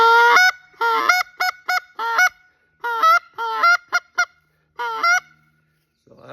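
A Leaning Tree goose call blown to imitate Canada goose honks, a rapid series of loud, close, sharp two-note honks in short bursts and quick clucks, alone without talk.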